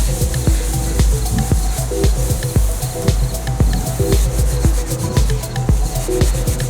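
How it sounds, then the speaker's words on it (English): A foggy car headlight is rubbed hard with a microfiber rag under firm pressure. The close, loud rubbing strokes repeat in a quick, regular rhythm with no talking. "Just give it a rub it on, rather roughly, with some pressure, good hard rub."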